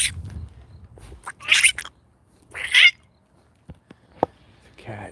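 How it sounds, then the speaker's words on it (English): A cat outdoors at night near a lit pergola in Forestville, California, gives a couple of loud, strained meows or yowls, with a person's voice and faint background noise around them. "It's a cat."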